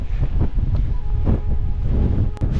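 Strong wind gusting across an exposed ridge near a mountain summit in the Arrochar Alps of Scotland, buffeting the microphone in a continuous loud roar with low rumbling surges and no voices.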